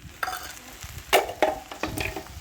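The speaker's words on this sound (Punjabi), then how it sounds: "ਆਪਣੇ ਭਿੰਡੀਆਂ ਨਾਲ ਭੁੱਜਣੀਆਂ ਨੇ ਤੇ ਪਿਆਜ਼ ਵੀ ਹੋਰ ਜ਼ਿਆਦਾ ਭੁੱਜ ਜਾਂਦੇ" Okra and onions frying in a pan, with a soft steady sizzle broken by a few sharp scraping stirs of a spatula, close and fairly quiet, no voices.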